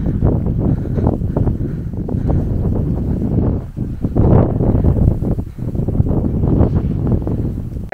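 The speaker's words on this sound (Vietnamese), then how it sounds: "Gió to dã man." Strong wind sweeps across mountain rice terraces at Mù Cang Chải, roaring and buffeting the microphone with a dense, continuous low rumble and gusty rushes throughout, with no speech.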